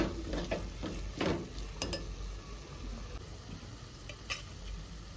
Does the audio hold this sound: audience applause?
no